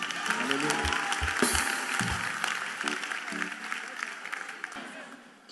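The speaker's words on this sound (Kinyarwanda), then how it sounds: "tuyikomera amashyi akomeye" A crowd claps at a gathering, sustained applause heard under a loud voice speaking over it, gradually fading toward the end.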